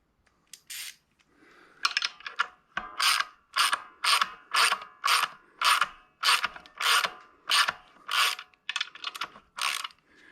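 A ratchet runs in the pressure plate bolts on a 472 Cadillac engine mated to a T56 six-speed, making about a dozen quick, close ratcheting bursts in a steady rhythm with short pauses between them and no talking.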